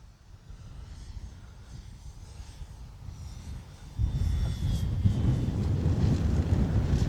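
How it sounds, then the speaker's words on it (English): Strong wind gusting across an open RC flying field, heavy low rumble buffeting the microphone throughout and growing louder and harsher in the second half. "it's so windy, you do not need flaps today"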